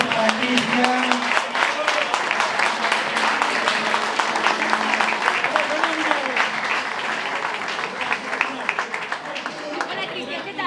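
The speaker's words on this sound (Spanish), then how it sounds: "Aplausos para Cristian." Sustained applause from an audience at an awards ceremony for an international tracking-dog trial in Galicia, dense clapping with crowd murmur and a voice speaking over it, steady and fairly loud before easing slightly.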